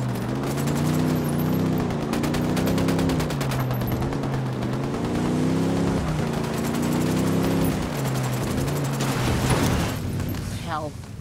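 Gunfire in the video game Tom Clancy's Ghost Recon Wildlands on PS4: dense, sustained bursts of shots run throughout over a droning vehicle-like engine hum, with a voice talking now and then.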